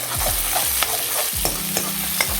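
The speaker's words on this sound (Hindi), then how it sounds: "अभी मसाला भूजे चली" Masala fries and sizzles in a pan on a home stove, with a steady hiss and a few sharp scraping stirs of a spoon, close and loud with no talking.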